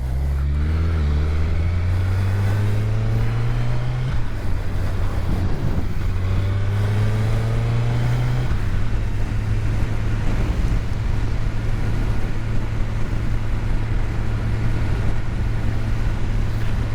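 A Gen 3 Suzuki Hayabusa motorcycle engine drones loud and steady as the rider accelerates through the gears, with rising pitch sweeps between shifts, then settles into a constant cruising hum under heavy wind rush.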